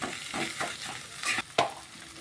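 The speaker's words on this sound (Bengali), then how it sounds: "এবার একটু ভালো করে মশলাটাকে একটু কষিয়ে নিচ্ছি" Spice paste frying in a pan with potatoes while being stirred, giving a steady low sizzle with repeated scraping strokes and a couple of sharper clinks near the end, close and without voices.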